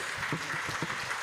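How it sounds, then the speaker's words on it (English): A conference audience in Bali applauds after a plenary session on shipping decarbonization, a brief, even wash of clapping from many hands that sounds moderately distant. "let's give a big round of applause for this"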